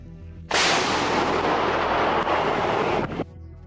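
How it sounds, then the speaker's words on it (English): Ukrainian artillery firing toward Konstantinovka, heard as a single sudden heavy roar that sustains loudly for about two and a half seconds before cutting off, rumbling outdoors with wind. "We only hear how hard the Ukrainian artillery is working in the direction of Konstantinovka."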